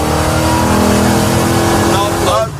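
A Cougar's V8 engine holds at high revs around 4,800 RPM with a rough, fluttering roar from valve float, then drops off near the end; a voice is faintly present underneath.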